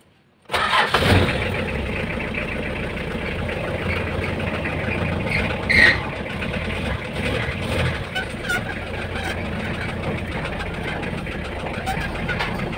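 A car engine starts and settles into a steady idle with a noisy power steering pump whining along, close and continuous, with a brief louder bump midway.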